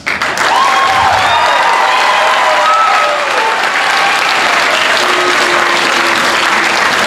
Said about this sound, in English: Okay, now students, actually applaud your parents.